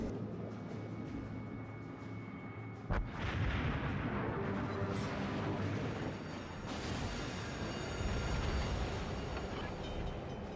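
The guns of the US battleship Colorado fire in the game World of Warships as a sudden heavy boom, followed by a sustained loud roaring rumble of battle that swells again later.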